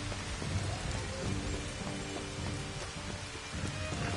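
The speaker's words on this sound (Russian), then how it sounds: "ну у нас и так идет дождь" Steady rainfall in the Final Fantasy XV Platinum Demo video game, a dense continuous patter of drops at an even loudness, with soft faint tones running underneath and no voices.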